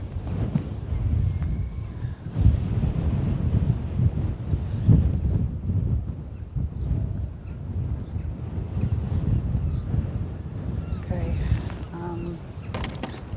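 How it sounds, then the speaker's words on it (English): Gusty wind blowing outdoors in St Ives, a continuous low rumbling buffet across the microphone that rises and falls in gusts throughout. "a bit gusty"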